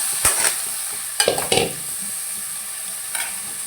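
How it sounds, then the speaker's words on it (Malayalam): Elephant foot yam pieces drop into hot oil with popping mustard seeds, giving a few sharp clattering sizzles with quiet frying hiss in between. "കടുക് പൊട്ടിക്കഴിയുമ്പോൾ നമുക്ക് ഈ ചേന വൃത്തിയാക്കി വെച്ച് മുളക് തിരുമ്മി വെച്ച് ചേന അതിൻ്റെ അകത്ത്"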